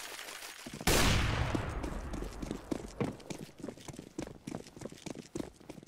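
CS:GO gunfire: one sharp loud shot with a ringing decay, followed by a quicker run of fainter rhythmic pops and footstep-like taps, with no talk.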